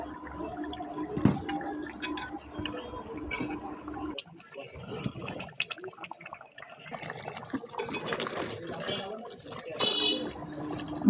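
Running and splashing water as radish pieces are washed, a moderate continuous wash with a louder gush near the start, close, with a voice speaking over it.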